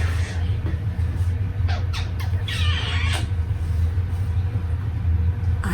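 A tame peach-faced lovebird gives several sharp squawks and chirps over a steady low indoor hum, close and fairly loud, with bursts clustered in the first half.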